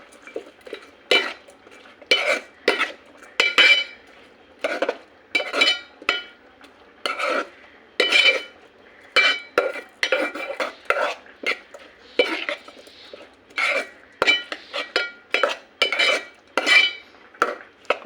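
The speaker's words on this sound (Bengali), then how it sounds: "মিক্স মশলা এগুলোকে এবার ভালো করে মিশিয়ে নেব" A spoon scrapes and clinks against a pot, stirring turmeric and mixed spices into baby khichuri in repeated short, close strokes with brief pauses between them.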